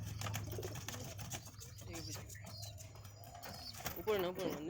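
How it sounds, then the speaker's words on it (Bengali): A female Madras pigeon coos in low, throaty murmurs close by, while someone talks over it, with a few faint chirps and brief wing flutters near the end. "এটা মাদা পায়রা"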